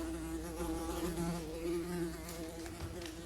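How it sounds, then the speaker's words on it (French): A housefly buzzes steadily and close by throughout a theatre stage performance, its drone wavering in pitch with no speech over it. "Une mouche. Une sale mouche."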